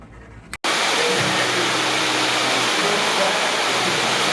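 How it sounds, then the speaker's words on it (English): Heavy rain drums steadily on the metal roof of a woodworking shop, a loud, dense, continuous hiss and patter that fills the space after a brief silence. "The noise you hear is the rain hitting the metal roof of my shop."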